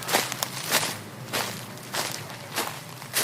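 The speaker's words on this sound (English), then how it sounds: "Then came the sound of footsteps, impossibly heavy, marching toward the village." Heavy footsteps march in a slow, steady rhythm, five or six loud thudding crunches about half a second apart, heard close and alone with no voices over them.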